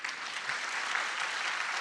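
A church congregation claps in encouragement for their pastor, a thick, sustained burst of applause from many hands filling the room.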